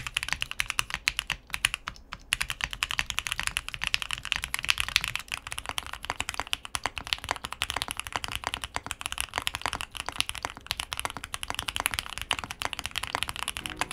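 Steady, fast typing on a QwertyKeys QK75n keyboard with PE foam and an all-foam setup, dense close keystrokes clacking continuously with no talking.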